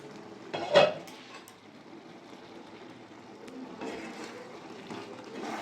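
A lid comes off a pot of lentil dal with bottle gourd and potato, giving a sharp metallic clink, followed by soft scraping and handling of the pot at moderate volume.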